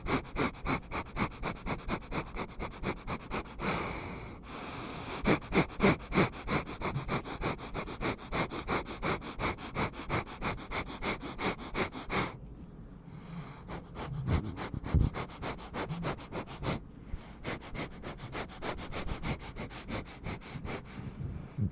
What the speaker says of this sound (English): There's some sniffles.